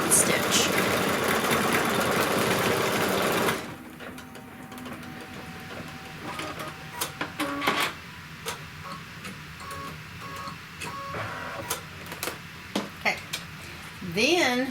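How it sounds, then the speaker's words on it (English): A Kimberbell embroidery machine sews a long basting tack-down stitch through chenille layers, its steady mechanical whir giving way to lighter rhythmic ticking and clicking, with a voice talking over it at times. "it's going to stitch like a basting stitch to hold these down"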